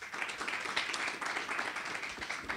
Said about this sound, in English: give Alan a round of applause